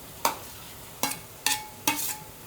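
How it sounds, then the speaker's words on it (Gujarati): Mashed potato and peanut mixture is stirred in a pan over low gas, heard as four distinct scraping strokes spaced about half a second apart over a faint background hiss, fairly quiet and without talk. "આ બધું એકદમ મિક્સ કરી લેશું."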